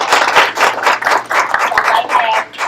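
A crowd applauds award recipients at a county gathering: a loud, dense burst of clapping with some voices mixed in.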